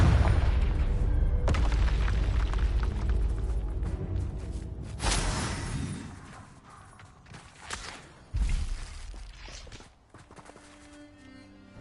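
Confringo blasting spells exploding in the Hogwarts Legacy video game: a few heavy booming blasts at intervals, with rumbling, clattering game effects between them and no talking.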